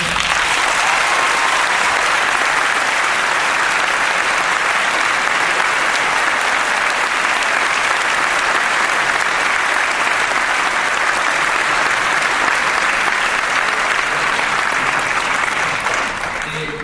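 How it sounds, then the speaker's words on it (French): Sustained audience applause following a speech, a dense and steady wash of clapping from a large crowd that holds at full loudness throughout before tapering slightly at the very end. "nous pensons que vous méritez vraiment un tonnerre d'applaudissements"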